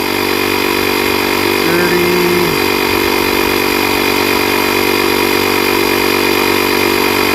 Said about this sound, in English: that aired up pretty quick for a small compressor that's cordless